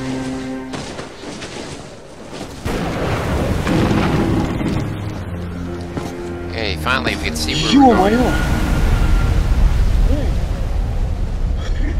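Rain and rolling thunder in the video game Metro: Last Light, a steady wash of rain with deep rumbles swelling louder partway through, running under someone talking over the gameplay.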